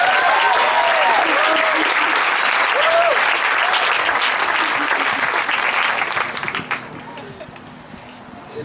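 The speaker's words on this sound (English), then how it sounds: "Please give yourselves a round of applause." A crowd applauding at a school promotion ceremony, with dense, loud clapping, whistles and cheering voices that hold steady before tapering off near the end.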